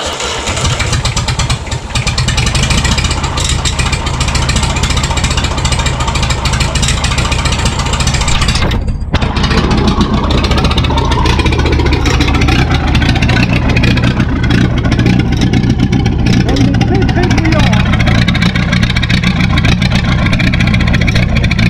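An old Massey Ferguson 865 tractor engine, just started after sitting idle for years, runs loud and close throughout with a steady rough diesel rumble, a brief drop near the middle, then continued racing as it idles unevenly.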